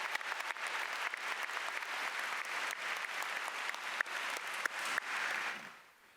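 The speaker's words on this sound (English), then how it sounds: "Let's give her another round of applause." Sustained applause from a large high school graduation audience honoring a graduate, dense steady clapping with a few sharper claps standing out, fading away at the end.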